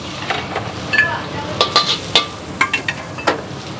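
Indonesian fried rice (nasi goreng) made without sweet soy sauce, sizzling in a busy food stall wok, with repeated scraping stir strokes of a spatula in bursts over a steady fry hiss.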